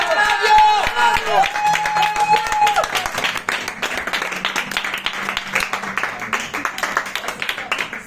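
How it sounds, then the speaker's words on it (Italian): Audience applause at an awards ceremony, starting under a brief sung or musical phrase and then a strong, sustained burst of crowd clapping that fades gradually. "grande applauso!"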